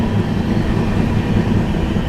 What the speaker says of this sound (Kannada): ಒಂದೇ ಟ್ರ್ಯಾಕ್ ಮೇಲೆ ಎರಡು ಟ್ರೈನ್ ಇದೆ